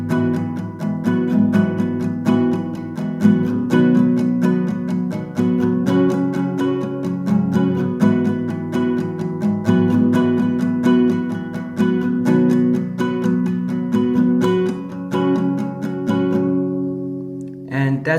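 An acoustic guitar strums the chorus chords of the song in a steady, even rhythm, close and clear, playing alone for the whole stretch before letting the last chord ring out.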